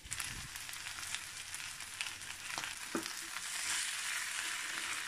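Onions and tomato for a beef roast fry in a pan with a steady, soft sizzle, broken by a few scraping stir strokes, quiet and close, with no voices.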